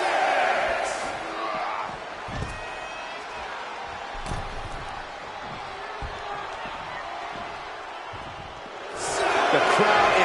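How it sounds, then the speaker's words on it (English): A wrestling arena crowd roars with cheering during a match, loud swells at the start and end with steady crowd noise between, under a commentator's voice. "The crowd is fired up."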